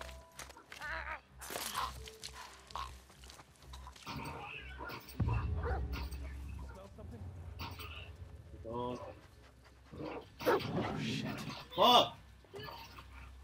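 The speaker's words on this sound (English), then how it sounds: "Is that the dog? That's the dog?" A dog in The Last of Us Part II barking and whimpering amid game sounds and crunching footsteps, with someone talking over much of it.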